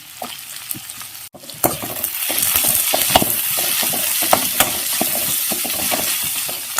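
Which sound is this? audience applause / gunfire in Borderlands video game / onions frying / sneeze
onions frying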